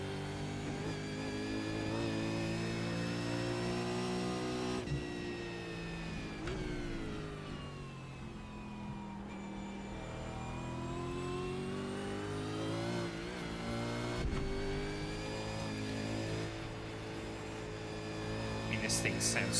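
V8 Supercar engine in iRacing at Bathurst, a steady loud harmonic drone rising and falling as the car revs up and down through gears, continuous throughout with occasional gearshift dips.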